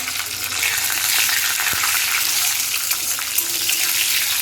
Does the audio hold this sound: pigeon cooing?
no